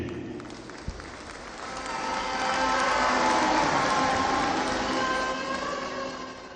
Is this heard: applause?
yes